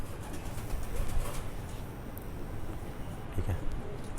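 A large Rampuri pigeon coos softly in a couple of low murmuring bursts against a noisy, muffled background.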